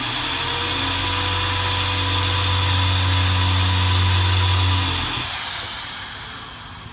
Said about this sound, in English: So I have my drill and I'm gonna start drilling holes into